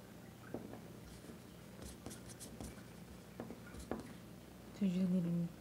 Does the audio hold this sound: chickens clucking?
no